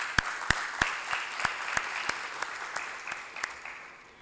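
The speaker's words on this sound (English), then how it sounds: "So I'd like to give a round of applause to you." Applause comes from the audience at a Rotaract Club installation ceremony in a hall, sparse individual claps in a loose irregular rhythm that thin out and fade over a few seconds.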